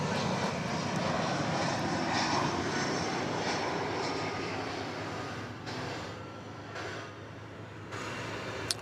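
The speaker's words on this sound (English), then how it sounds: "Flight 2994 arriving from Jackson, Mississippi, and Airbus A319" Airbus A319 arriving at night at DFW Airport, its engines producing a loud, steady jet roar with a broad rushing hiss that eases off slightly toward the end.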